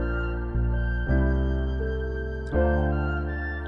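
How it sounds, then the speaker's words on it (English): Sampled flute tones from a Mellotron 5 plugin play a short melodic pattern for a piano-based trap beat, with a few sustained notes changing pitch about every second, clear and alone. "I had this flute pattern in my head and it sounds like this"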